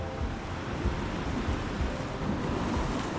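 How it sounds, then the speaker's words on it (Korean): Ocean surf rolls and breaks steadily along a rocky basalt coastline path on Ulleungdo island, a continuous broad wash of waves with some wind rumble and no voices. "아 파도 소리 좋고"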